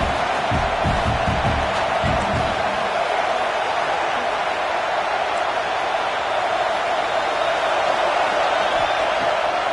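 A packed stadium crowd at a UNC vs. LSU college football game produces a dense, steady roar that holds at an even level throughout.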